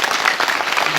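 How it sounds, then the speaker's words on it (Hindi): A crowd of people gathered around a public figure claps in a brief burst of loud, dense applause. A voice briefly rises at the end. "आपके लिए ताली बजा रहे हैं सारे लोग"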